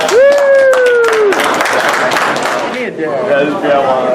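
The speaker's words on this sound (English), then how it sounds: "Let's give them a round of applause." Studio audience applause on a live show, clapping and cheering breaking out under a host's voice and a sliding electronic tone, fading toward the end.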